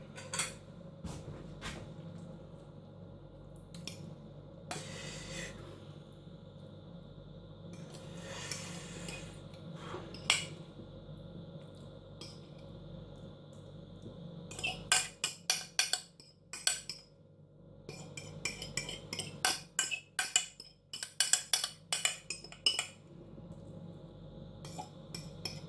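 A metal spoon scrapes and taps against a bowl while scooping tuna mayonnaise filling into a baked potato, with intermittent clinks and rubbing that grow busier toward the end, close and fairly quiet.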